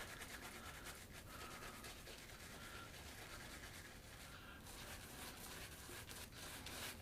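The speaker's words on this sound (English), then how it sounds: "Let me rub some of this stick onto my brush." A shave stick is rubbed onto a shaving brush, making a steady, close scrubbing and brushing sound that continues without break for several seconds.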